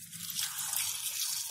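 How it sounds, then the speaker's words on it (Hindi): Water is poured into a pan of roughly cut mango pieces on a gas stove, giving a steady, close splashing and trickling that runs for about a second and a half. "500 मिलीलीटर पानी डाल देंगे"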